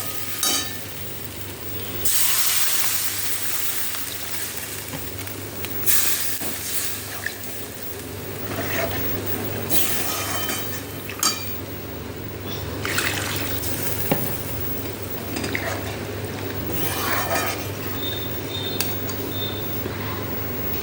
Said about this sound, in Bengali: এই দেখো এই দেখো ঝোলটা ফুটে গেছে, আলু আমার নরম হয়ে গেছে।